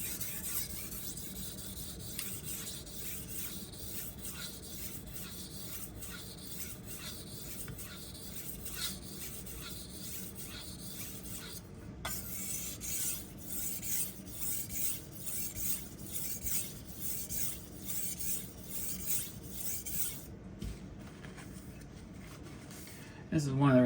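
Chef knife scraped back and forth across a wet Naniwa Hayabusa whetstone in a steady rasping rhythm, close and continuous, with someone talking over it.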